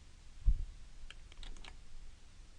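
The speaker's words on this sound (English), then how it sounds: "So just hitting delete on our keyboard." A single soft keypress of the delete key on a computer keyboard, followed by a few faint clicks, quiet and close in a hushed room.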